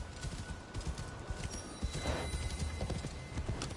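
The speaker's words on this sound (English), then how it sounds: "Look at this horse. Super horse." A horse in Assassin's Creed Shadows clip-clops along in a quick, steady hoof rhythm, soft and fairly close against a quiet outdoor game ambience.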